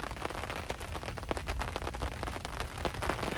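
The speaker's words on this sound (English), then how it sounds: "just now the rain's starting to come in" Rain patters onto a tarp over a wilderness canoe campsite in the Boundary Waters, a close, steady hiss broken by sharper drops striking the fabric, with no talking.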